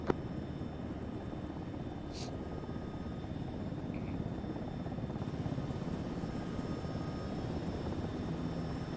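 Helicopter touching down in the military game Arma 3, a steady, moderately loud rotor and engine drone with a faint blip or two on top and no talking.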